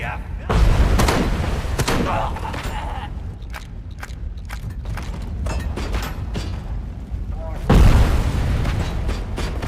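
A heavy explosion booms in the Robocop Rogue City video game, followed by a sustained rumbling, chaotic din and a second loud blast near the end.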